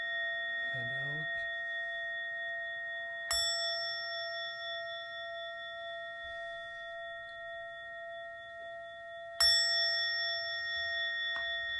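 A meditation bell is struck twice, about six seconds apart, each strike blooming into a long, clear, shimmering ring that slowly fades, with the tone of an earlier strike still hanging at the start and a faint murmur of voice early on.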